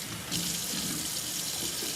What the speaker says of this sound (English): the water comes out of the tap already in top quality form